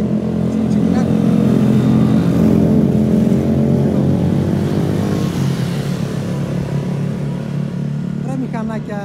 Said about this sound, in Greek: Ρε μηχανάκια, πολύ κίνηση σήμερα ρε παιδιά.